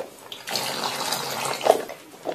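Water pumped into a pot during a pump pot test, a brief nearby splashing gush that starts after a quiet moment and runs unevenly with small surges, no voices.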